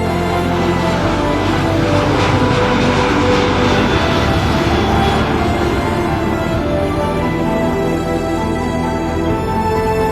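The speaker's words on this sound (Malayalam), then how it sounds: "ഫ്ലൈറ്റ് ഫസ്റ്റ് ലാൻഡ് ചെയ്യാനുള്ള ശ്രമം നടത്തിയെങ്കിലും എന്താ പറ്റിയെന്ന് അറിയില്ല, അത് ഗോ അറൗണ്ടിലേക്ക് പോവാണ് ചെയ്തത്" A steady, loud roar of an airliner overhead at Kozhikode (Karipur) airport as it goes around after an aborted landing, powerful and unbroken throughout.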